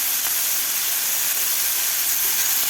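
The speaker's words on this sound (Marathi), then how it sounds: "आपल्याला 3 ते 4 मिनिट आपल्याला हे मटार तेलामध्ये थोडेसे परतून घ्यायचे आहेत." Green peas sautéing in hot oil in a pan give off a steady, close, bright sizzling hiss that holds evenly throughout, with no voices.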